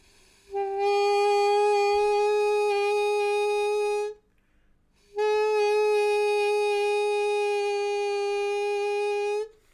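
A beginner's wavering first saxophone note blown twice, each lasting a few seconds with a short silence between, reedy and fairly loud.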